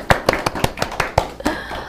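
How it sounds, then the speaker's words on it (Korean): Scattered hand claps from a small audience at a parents' academy lecture, thanking Professor Shin for her talk; sparse, distinct claps spaced irregularly, fairly close, with no voices over them. "신혜진 교수님께 다시 한번 큰 박수 부탁드립니다."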